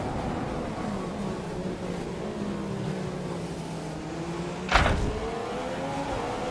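Williams Formula 1 car engine in the F1 2015 racing game at Shanghai qualifying, a steady droning whine under constant road noise with a brief louder whoosh near the end as a car passes.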